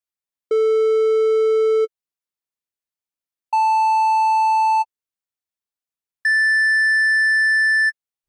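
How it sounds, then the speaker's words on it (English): Synthesizer triangle wave, repeated three times so it sounds three octaves higher, playing as three separate steady tones, each higher than the last. Each lasts over a second with silence between. "our triangle wave now sounds 3 octaves higher"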